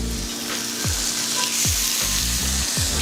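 Lamb chops seared in hot oil in a pan give a loud, dense, continuous sizzle up close, with a few faint low thumps underneath and no talking.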